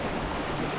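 Sea waves wash steadily along a shore in the Philippine provinces, a soft continuous surf with no voices over it during this brief moment.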